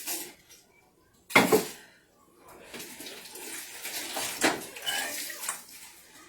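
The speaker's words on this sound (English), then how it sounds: "So let me rinse this off." Tap water runs at a kitchen sink while shrimp are rinsed, with a loud splashing gush followed by a steadier, softer flow with some clatter.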